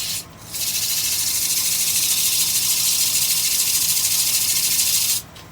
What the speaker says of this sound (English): Craftsman shop vac, so it's loud